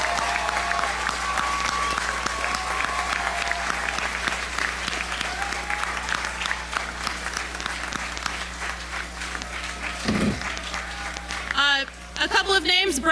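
Steady applause from a crowd honoring the volunteers who helped students on a campus after a Florida hurricane, filling the whole stretch at an even level, with a few voices breaking through near the end.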